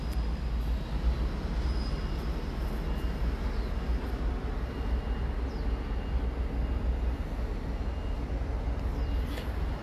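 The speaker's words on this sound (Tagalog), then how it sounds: "Oh, there goes a train. MRT. Right below the window." An MRT train passes below a window, a steady low rumble with broadband rolling noise that holds loud and even throughout, with no voices over it.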